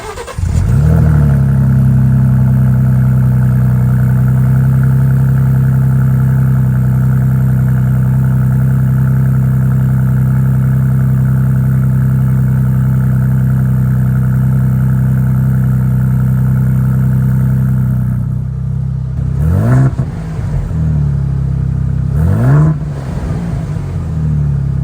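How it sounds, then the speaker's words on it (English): A 2024 Ford Bronco Raptor's twin-turbo engine and exhaust idle loudly and steadily for a long stretch, then rev twice near the end in quick rising-and-falling bursts, heard up close with no talking. "I'll throw in a clip of the exhaust sound so you guys can hear it."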